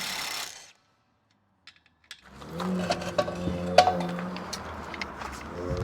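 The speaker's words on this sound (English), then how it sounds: "there's nothing like an impact wrench to take out rusty bolts" Impact wrench working rusty bolts loose from an RV tongue jack, a burst of rapid mechanical rattling and hammering after a near-silent pause, loud and close with metallic clanks.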